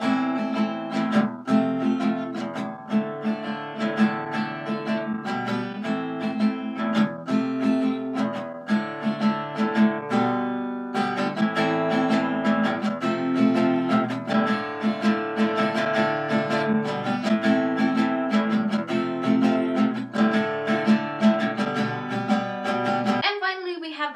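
Guitar chords strummed in a steady rhythmic pattern for the final chorus of a song, bright and full, played continuously with no voice, ending with a final ringing chord.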